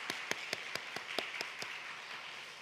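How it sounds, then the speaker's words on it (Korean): About eight evenly spaced hand claps from a church congregation during Sunday worship announcements. They are faint and slightly distant, keeping a steady rhythm and then stopping. "하나님께 영광의 박수를 올리도록 하겠습니다"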